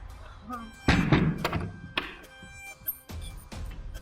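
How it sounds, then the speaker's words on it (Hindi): A door being shut indoors in a tense domestic scene, a single solid thunk standing out amid softer knocks and room noise, with voices talking around it. "दरवाजा बंद।"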